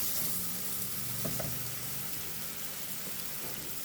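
Onion, herbs and spices sizzle and fry in a pot, a steady crackling hiss close up with brief stirring scrapes partway through.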